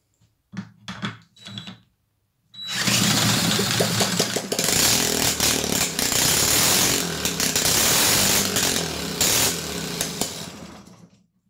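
A small engine fitted with a carburettor sputters in a few short bursts, then catches and runs loudly with a rough, fluctuating revving roar until it cuts off near the end.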